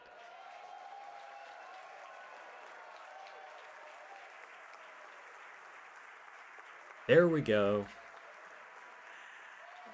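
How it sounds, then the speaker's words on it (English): A crowd in Kerbal Space Program applauds and cheers as Falcon Heavy side boosters land, a soft, steady wash of clapping, briefly interrupted by someone speaking. "See on your screen and hear the crowd here, very excited."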